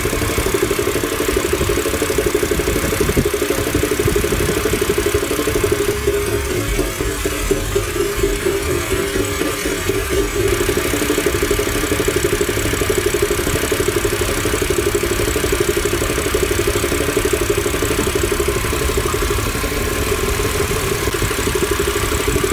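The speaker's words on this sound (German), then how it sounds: "Dann den Wagen 10 Minuten laufen lassen" Car engine idling steadily after one litre of Liqui Moly CeraTec additive and ProLine engine flush were filled in, a constant, even running note heard close by without any talk.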